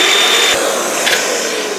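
A Festool Kapex KS 60 mitre saw cuts into a corner with an MDF block as zero clearance insert, a loud, steady close-up whirring roar throughout the brief moment.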